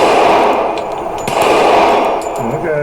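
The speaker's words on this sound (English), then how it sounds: "Let's try the gong." A 1911 pistol fires at a steel gong target: loud, close shots followed by dense metallic ringing that carries on throughout with several sharper impacts.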